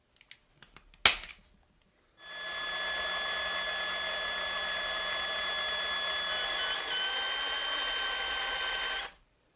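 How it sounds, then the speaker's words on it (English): An electric drill bores into an old Matchbox Porsche toy car, a steady close whirring grind lasting about seven seconds, preceded by a few sharp clicks and a thump. "I'm just going to go ahead and drill it"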